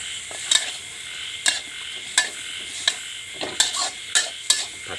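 Egg and instant noodles fry in a pan while being stirred: a soft steady sizzle under about ten sharp scraping stir strokes at an irregular pace, close and clear, with no talking.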